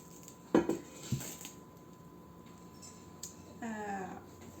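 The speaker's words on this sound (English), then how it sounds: "you just scrape that dough like that off the plastic wrap" Sticky bread dough being scraped off plastic wrap, heard as a few close, sharp scraping and clattering strokes with quieter rustling between them.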